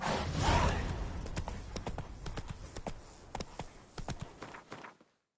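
Roach, Geralt's horse in The Witcher 3: Wild Hunt, gallops with a quick run of sharp clip-clopping hoofbeats on firm ground, moderately close, fading and stopping abruptly near the end.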